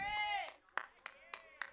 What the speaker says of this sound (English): Garrett Green getting an applause for